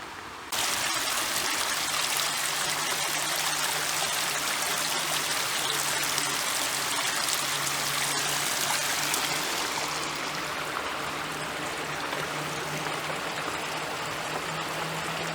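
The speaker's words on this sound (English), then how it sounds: "Looks like there's a little waterfall." A small waterfall on a stream at a nature reserve runs steadily, a continuous bright rushing splash that stays close and even throughout with no talking.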